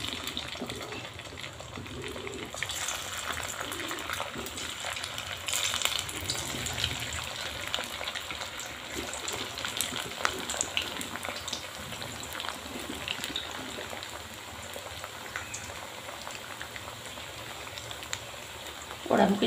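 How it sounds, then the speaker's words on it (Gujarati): Potato and poha vadas sizzle in hot oil, a soft, steady hiss and crackle that continues evenly for about twenty seconds, fairly faint in the background. "વડા મૂકી દીધા છે, બહુ સરસ મજાના તરાય છે"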